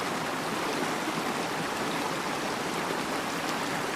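Sai Thong waterfall stream in Nakhon Nayok, a continuous broadband rush of flowing water that stays even and fairly loud throughout, with no voices.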